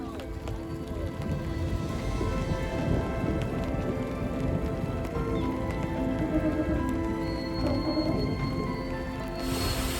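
Steady heavy rain pours down, dense and loud throughout, with a low rumbling undertone of distant thunder, heard on the Rhône river.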